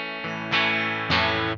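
Electric guitar run through a Broughton Audio OMNICOMP compressor pedal, three sustained distorted chords struck in quick succession, close and evenly squashed in level, with no talking.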